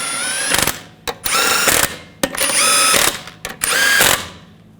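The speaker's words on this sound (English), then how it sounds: "Tighten down the lug nuts." A power tool tightening the rear wheel lug nuts on a 2014-2018 GMC Sierra 1500, several loud close bursts of whirring and rattling impact, each stopping abruptly with short pauses between.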